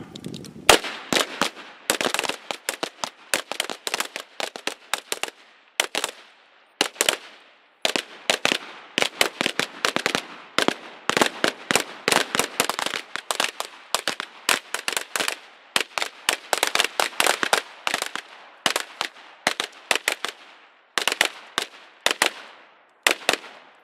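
Carbine fire at a shooting class rings out as rapid volleys of sharp, loud gunshots, bursts of closely spaced cracks separated by short pauses, with no talk over them.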